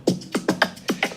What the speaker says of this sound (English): And then after that, I had the open hi-hat.